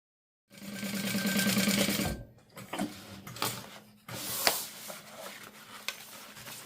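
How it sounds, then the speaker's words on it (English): A sewing machine stitches a quarter-inch fabric seam in a fast, rattling burst of about a second and a half. Shorter start-stop runs and handling noises follow, close and clear, with no talk. "we are going to sew all the way around at 1/4 inch"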